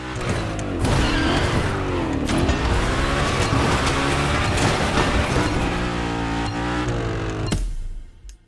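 The Hoonicorn, Ken Block's Gymkhana car, slides hard with a loud, sustained engine roar and screeching tire squeal, close by, before cutting off abruptly near the end.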